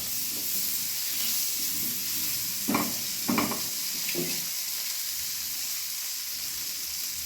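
Boiled potato and carrot sizzle steadily in hot butter in a pan, a continuous hiss broken by a few louder stirring scrapes midway, with no voices.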